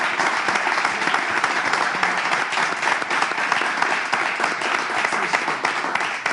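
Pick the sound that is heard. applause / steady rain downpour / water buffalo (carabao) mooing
applause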